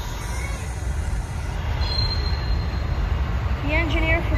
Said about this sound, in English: we got our Amtrak is leaving